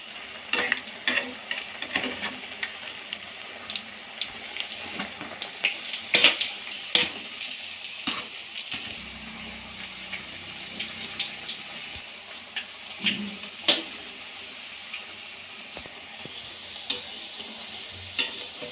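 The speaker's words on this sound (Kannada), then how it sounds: "ಗೋಲ್ಡನ್ ಬ್ರೌನ್ ಆಗೋವರೆಗೂ ಉಟ್ಕೊಳ್ಳಿ ಎಣ್ಣೆ ಒಳಗೆ" Potato and onion pakoda frying in hot oil over a medium gas flame: a continuous close sizzle with sharp crackles and pops scattered throughout, plus occasional clinks of stirring, with no talk.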